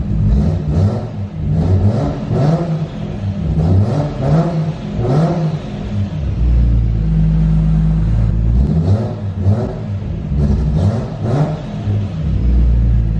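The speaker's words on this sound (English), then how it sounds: "when I just give it gas there, it definitely has a hesitation to it" Widebody Toyota Supra engine revving in repeated throttle blips, a loud close rumble that swells and falls with a hesitation on each rise, then a steadier low idle drone.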